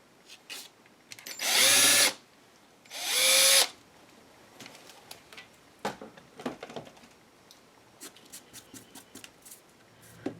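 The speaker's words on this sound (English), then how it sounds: "I'm going to bring in my drill, and I'm going to drill a hole in the center here" A power drill drills a hole into a paper clay heart in two loud bursts of about a second each, followed by scattered clicks and light handling noises.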